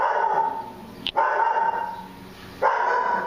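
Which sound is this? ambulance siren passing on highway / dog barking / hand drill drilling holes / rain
dog barking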